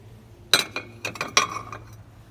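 Old Riga porcelain plates, with East German porcelain among them, clink as they are handled at a second-hand shop. There are several sharp close chinks, with two louder knocks and a few lighter taps over about two seconds.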